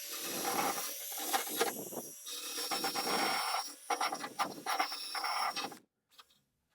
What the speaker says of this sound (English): So I think I'll get a wire wheel and clean that up